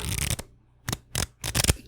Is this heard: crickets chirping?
no